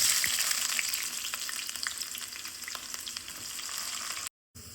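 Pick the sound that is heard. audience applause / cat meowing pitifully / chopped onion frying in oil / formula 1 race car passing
chopped onion frying in oil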